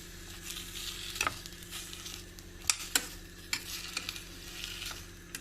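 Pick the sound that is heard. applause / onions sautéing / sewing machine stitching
onions sautéing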